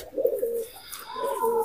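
Pigeons in a high-flying pigeon loft coo in two soft, rolling phrases, close by and clear, with no talk over them.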